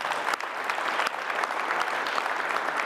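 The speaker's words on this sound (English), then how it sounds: "Let's give him a round of applause." A high school signing-day audience applauds a student athlete, a dense, steady round of clapping that fills the short moment without talk.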